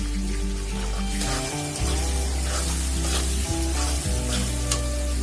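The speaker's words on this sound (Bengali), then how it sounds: "এটা এখন ভালোভাবে আমি কষিয়ে নেব" Loitta dry fish sizzles steadily with ground coriander, chilli and turmeric in a pan, a continuous close frying hiss broken by occasional stirring scrapes.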